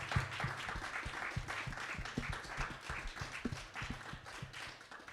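Audience applause at a business panel talk, a quiet, fairly distant patter of clapping that keeps going steadily for several seconds with no voices on top.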